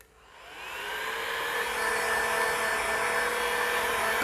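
A low-watt hot air gun switches on and spins up within a second into a steady, smooth, hissing whir that holds constant and fairly loud.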